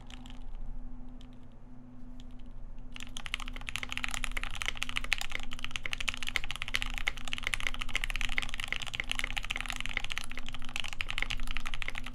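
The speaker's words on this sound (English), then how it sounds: "This is the Bauer by dixiemech, built with a polycarbonate full plate. And using the GMK Modern Dolch keycap set." Dense, steady typing on a Bauer mechanical keyboard built with a polycarbonate full plate and GMK Modern Dolch keycaps, with a rapid stream of close keystroke clacks that starts after a quiet opening few seconds, over a low steady hum.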